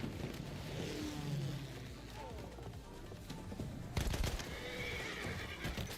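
A horse neighs loudly in the World War I shooter Battlefield 1, a shrill whinny with clip-clopping hooves and a revving vehicle engine around it, while a player talks.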